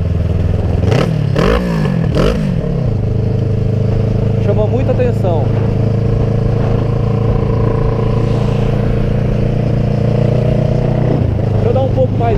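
A Kawasaki ER6N motorcycle fitted with a loud aftermarket exhaust idles with a deep, steady rumble and is blipped into several sharp revs early on. Someone talks over the engine throughout.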